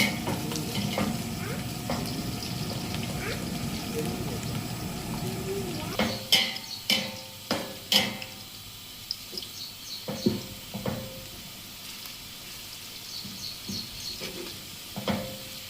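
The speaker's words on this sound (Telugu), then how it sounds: "ఆనియన్స్ బాగా గోల్డెన్ ఫ్రై వచ్చేలాగా, గోల్డెన్ కలర్లో వచ్చేలాగా ఫ్రై చేసుకోవాలి" Onions fry until golden in a pan for Andhra-style chicken masala fry, sizzling steadily at first with stirring and scraping clatters growing more distinct as the sizzle settles.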